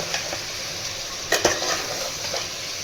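Mutton being stirred with spices in a frying pan, with a steady sizzle under scraping stirs and a couple of sharp utensil knocks against the pan, close and continuous.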